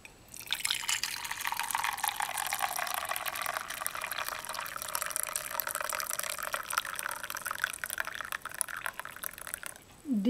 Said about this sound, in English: So we pour in the